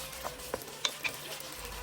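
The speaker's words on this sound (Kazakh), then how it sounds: "Енді етімізді қосайық та 15 минуттай қуырайық." Meat frying with previously browned onions for a pasta pilaf over a high flame, giving a quiet, steady sizzle with a few soft stirring scrapes.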